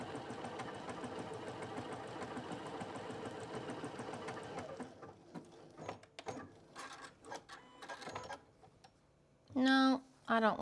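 A sewing machine stitches a cathedral window quilt pillow in a steady, fast mechanical run for about five seconds, then stops, followed by scattered handling clicks and a brief voice near the end.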